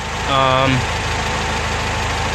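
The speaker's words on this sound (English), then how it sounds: "It's idling around 700 RPM, no surge or anything like that." A swapped Honda B18C car engine idles steadily at around 700 RPM with an even, low rumbling pulse, and a short voice-like tonal sound rises briefly over it near the start.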